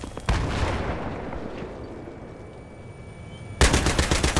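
Sustained rapid bursts from a .50 cal coaxial machine gun on a tank in Battlefield, loud and dense, dipping briefly mid-clip before a heavy burst resumes near the end, with no talk.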